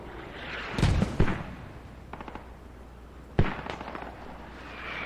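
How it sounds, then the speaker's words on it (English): Mortar shells bursting in a military video game, a few sharp close blasts and crackling impacts spaced a second or two apart over a quiet background. "Squad 4, we got mortars right on top of the hab."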